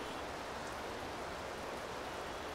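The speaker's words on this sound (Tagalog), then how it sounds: "Ang kailan pa lumakas yung ulan." Heavy rain pours steadily in a broadband wash, constant and dense throughout with no pauses, without any talk.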